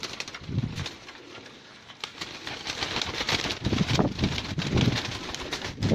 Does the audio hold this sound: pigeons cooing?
yes